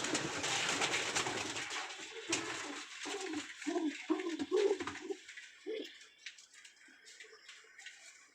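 Pigeons in a loft with young birds coo in a string of low, rounded pulses, about a dozen in short bursts, close and clear after a noisy start, then trailing off into quieter background rustle.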